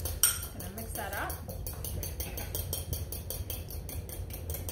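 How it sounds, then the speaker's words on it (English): Olive oil being mixed into a steak tartare sauce in a bowl, heard as a steady run of light utensil clinks and scrapes against the dish, close and continuous with low room noise beneath. "And I have some olive oil. It's probably a tablespoon so far. I'm gonna mix that up."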